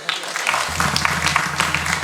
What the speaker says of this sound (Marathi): एकदा टाळी वाजवा त्याच्यासाठी.